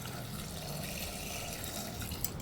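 Water is poured into a cooking pot holding karamani (black-eyed peas), big onions and salt, a steady, continuous splashing flow heard close up with no talk.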